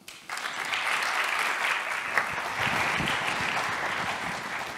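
An audience at a sponsored conference talk breaks into steady applause, with dense clapping that starts abruptly and holds evenly for several seconds.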